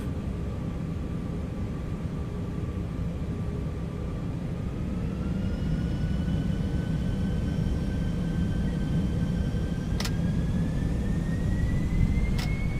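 An Airbus A320 in the X-Plane 12 flight simulator spools its jet engines up to takeoff thrust, a steady loud roar with a rising whine and no voices.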